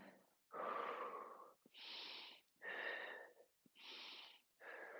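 Deep, audible breaths held during a gentle arm and shoulder stretch, alternating long inhales and exhales with a slightly rasping, airy tone, close to the microphone and without talk.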